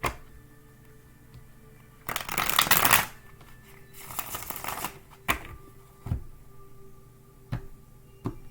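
Playing cards riffle-shuffled at close range in a quiet room: one long rustling burst, a second shorter riffle, then a few sharp isolated taps as the deck is squared.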